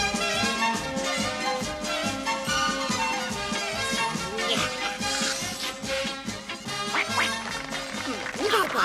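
A duckling quacks in a Smurfs Easter cartoon, its calls mixed into loud, busy orchestral music that plays throughout.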